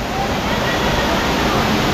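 A strong-flowing waterfall at Bulawan Falls roars loudly and steadily, with water pouring and rushing hard and a constant dense wash of sound close by.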